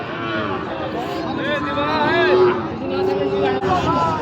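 Cattle and bull calves at a livestock market in Joypurhat, Bangladesh, low moos rising and falling beneath close, steady talk and background crowd chatter.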